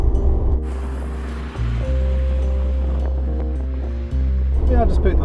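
A classic Mercedes 190 saloon cruising at about 30 mph, heard from the cabin as a steady low engine drone with road and wind rumble underneath, with a shift in pitch partway through.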